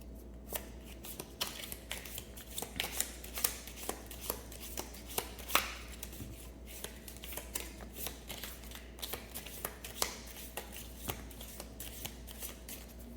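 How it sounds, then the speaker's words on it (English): Close, soft hand shuffling of a tarot deck, repeated light slaps and riffles at an uneven pace over a faint background hum. "Shuffle again."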